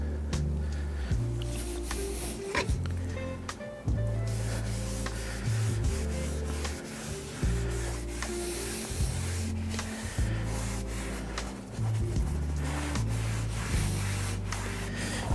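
An applicator rubs Ethos interior ceramic coating into car seats in repeated back-and-forth strokes, a soft close-up scrubbing with brief pauses between passes.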